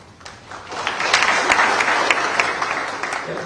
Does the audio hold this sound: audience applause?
yes